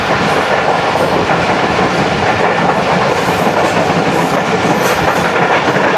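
A Shalimar Express train overtakes the Hazara Express at Dera Nawab station, giving a loud, continuous rumble with steady clickety-clack of wheels on rail and no voices.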